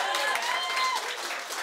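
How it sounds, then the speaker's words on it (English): Studio audience applauding Labour MP for Mount Roskill Phil Goff as he is introduced, a dense steady wash of clapping with a host's voice over it. "you give please a big round of applause for Labour MP for Mount Roskill, Phil Goff"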